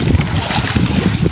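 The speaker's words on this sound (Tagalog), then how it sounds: "malakas ang alon" Strong sea waves slap and splash against a small fishing boat at close range, with gusty wind buffeting the microphone in a short, loud, choppy burst.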